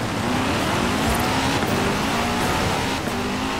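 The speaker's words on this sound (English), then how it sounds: "I might have to break out the Bugatti for this one." A Bugatti Veyron in Forza Horizon 4 roars at sustained high revs, a loud, dense engine drone with rising tonal whine and no break, alone without talk.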